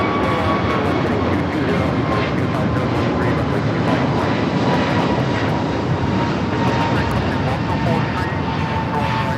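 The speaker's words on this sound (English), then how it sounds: "American Airlines 1659 taking off to Dallas Fort Worth on the A321 Neo" American Airlines Airbus A321neo jet taking off from Los Angeles LAX bound for Dallas Fort Worth, a loud, steady engine roar that holds throughout with faint talk over it.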